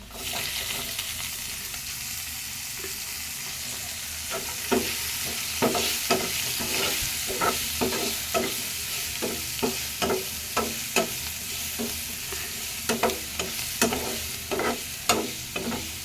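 Capsicum sizzles and fries in a pan for an egg omelette, with steady hissing broken by repeated sharp scraping and stirring strokes of a spatula, close and alone.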